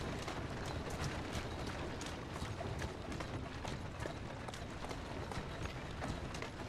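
Horse's hooves clip-clopping at a steady trot in the video game Assassin's Creed Syndicate, an even rhythmic beat under a dense, noisy street background with rattling carriage mechanisms, fairly close.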